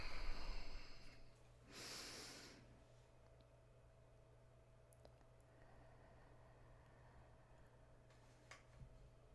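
One deep breath drawn in slowly and let out, close to the microphone, in a guided group breathing practice, followed by near silence over a faint steady hum.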